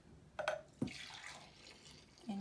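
Thick body lotion liquid pours into a small measuring cup in a few brief, soft trickling bursts, close and quiet, with short pauses between pours.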